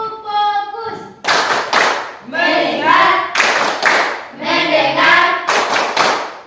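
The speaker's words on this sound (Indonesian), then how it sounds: "Tepuk fokus." Classroom ice-breaking 'tepuk fokus' clap game: a group of students claps in short rhythmic bursts of loud, sharp claps alternating with chanted words, a single voice calling out at the start.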